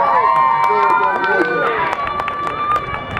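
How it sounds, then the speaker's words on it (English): A crowd applauds at a comedy hypnosis show during the Harvest Moon Festival, with loud, continuous clapping and cheering that runs throughout and eases a little toward the end. "Give them all a big round of applause, everybody."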